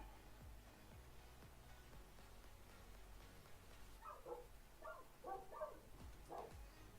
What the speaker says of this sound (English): Neighbors' dogs are barking.